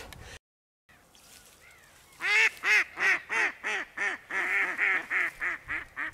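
Decoy ducks quacking during a spring duck hunt on the Oka river, a run of about a dozen loud, close, evenly spaced quacks following a brief quiet stretch.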